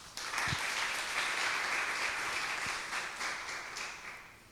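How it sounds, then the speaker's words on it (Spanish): Steady applause from a crowd welcoming speakers at a lecture on state liability, sustained and fairly loud throughout, fading slightly toward the end. "Recibámosles con un fuerte aplauso."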